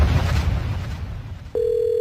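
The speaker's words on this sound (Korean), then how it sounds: "지금 전화를 걸어보겠습니다. 박선규 새누리당 대변인한테 전화해 보겠습니다." A telephone dial tone starts abruptly as a steady, clear electronic hum and holds to the end, preceded by muffled handling noise and low rumble while calling a Saenuri Party spokesman.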